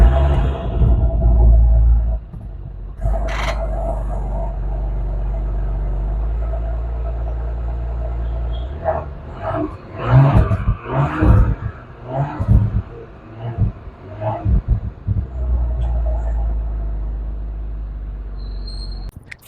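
A Porsche Cayenne engine breathes through its dual-tip exhaust, holding a steady low rumble, then rising in several sharp revving bursts before settling back to a deep idle.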